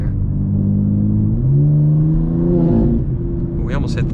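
Turbocharged 800HP BMW M2 G87 engine pulling hard from inside the car, a loud rising drone that climbs in pitch through a gear, then dips with a brief whoosh; a voice is heard over it near the end.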